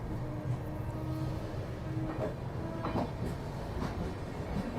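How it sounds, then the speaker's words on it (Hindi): A train pulls away from Govindpuri station, a steady low rumble of wheels and carriages running continuously with faint rhythmic clatter over the rails, close and sustained throughout. "चले निकल चुके ट्रेन अपनी गोविंदपुरी से"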